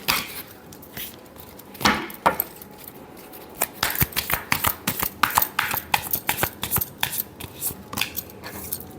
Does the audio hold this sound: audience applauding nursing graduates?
no